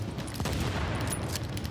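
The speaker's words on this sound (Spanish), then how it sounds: "le vamos a pegar un par de tiros aquí en la espalda" Gunfire from the video game The Division, a dense burst of shots against a steady low rumble of game sound, close and loud throughout.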